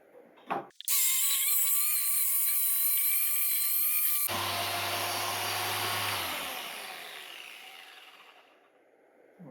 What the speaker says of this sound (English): I'm going to go ahead and buff it and see if that takes off more